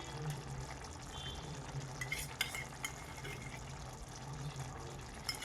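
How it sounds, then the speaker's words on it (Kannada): Fresh cream going into a simmering paneer capsicum masala: a soft, continuous wet bubbling with light stirring clicks, faint and close. "ಈಗ ಇದಕ್ಕೆ ನಾನು ಫ್ರೆಶ್ ಕ್ರೀಮ್ನ ಹಾಕೋತಾ ಇದ್ದೀನಿ"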